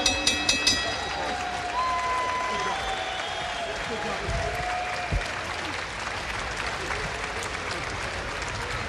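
A boxing crowd applauding and cheering after a fight, a dense wash of clapping and crowd noise that continues steadily while a commentator talks over it.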